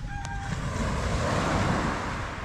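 Sea waves wash onto a beach that looks brownish after rain, making a steady roaring surf mixed with wind noise on the microphone, with no talking.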